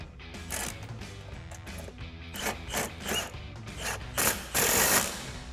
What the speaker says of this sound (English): And we'll tighten it down with our 18mm socket.